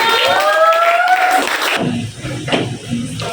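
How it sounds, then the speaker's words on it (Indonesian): A burst of applause and cheering from a classroom audience, loud at first and then thinning out, with some voices mixed in. "Tepuk tangan kelompok 5."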